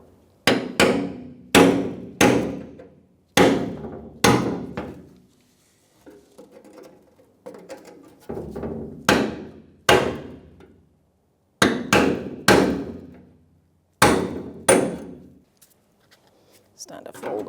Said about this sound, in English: I like to use a brass punch and a hammer